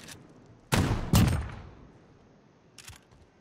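Two sharp, close shotgun blasts ring out in a competitive first-person shooter gunfight, followed by a fading tail and a fainter distant shot.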